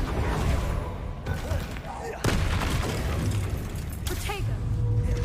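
A Bombarda spell explodes during Hogwarts Legacy combat with a heavy booming blast, then a second burst follows amid dense, continuous battle noise.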